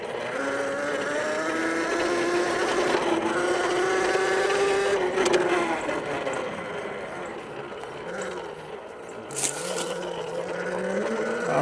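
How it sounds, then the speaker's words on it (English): A mini dirt bike's small engine runs steadily at close range, a buzzing, harmonic drone that rises and falls slightly with throttle changes throughout. "a kid would absolutely love it because it gets that authentic dirt bike sound"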